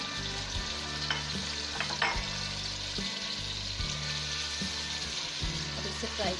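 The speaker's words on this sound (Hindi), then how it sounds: "ये देखिए अब हम इसे भून रहे हैं।" Mutton frying in a karahi as it is stirred, a steady sizzle with repeated scraping strokes of the spoon against the metal pan, fairly quiet and even.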